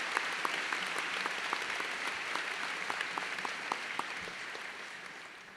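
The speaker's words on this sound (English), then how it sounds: "please join me in a round of applause for all of our local scholarship sponsors" Steady applause from a large audience fills a high school graduation ceremony, dense and continuous with scattered sharper claps throughout, fairly distant and even in level.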